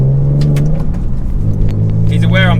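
A Porsche 996 Carrera engine warms up and drives, a steady low rumble with rising revs near the end, heard close under someone talking.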